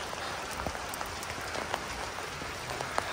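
Rain falls steadily on a trek route near Ghandruk village in Nepal, a dense, even patter with scattered louder drops hitting nearby surfaces.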